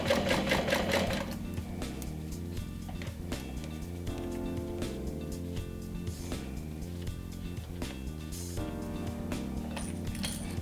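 A sewing machine stitching the side seams of a small backpack, running steadily and fairly close with a fast, even mechanical chatter, starting slightly louder and continuing without pause; no speech.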